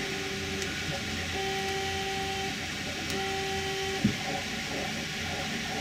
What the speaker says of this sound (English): I need to hear my 3D printer going in the background there.